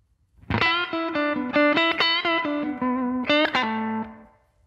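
Clean electric guitar plays a slow blues lick in B, first-position minor pentatonic, with a series of sustained bent and picked notes and light effects, alone with no talking.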